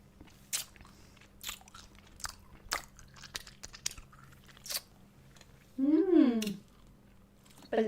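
Candy being chewed close up with sharp, crunchy bites repeating at an irregular pace, followed by a louder squishy, wet burst near the end.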